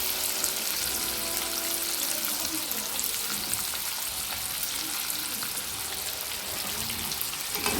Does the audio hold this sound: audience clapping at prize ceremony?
no